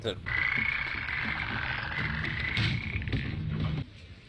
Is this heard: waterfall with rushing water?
no